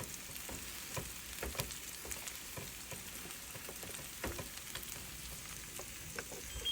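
Cut-up potatoes frying on a Blackstone griddle give a faint, close crackle and sizzle dotted with small sharp pops and spits, with no voices over it.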